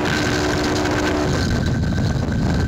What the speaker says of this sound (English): the sound of the impact caught on the Metra locomotive's event recorder